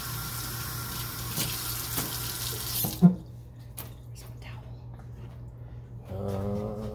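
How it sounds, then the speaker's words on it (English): Tap water runs over hands at a sink with a steady hiss, stops abruptly partway with a clunk, then after a few quiet seconds a faint humming flow starts again; no talking. "Rinse my hands off."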